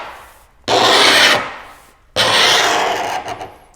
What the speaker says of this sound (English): because I'm cutting this on top of this other laminate surface